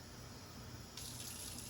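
Two cups of cold water pour into a lavender lemonade mixture, a steady, soft close-up stream running alone under faint room noise, brightening and gushing harder toward the end.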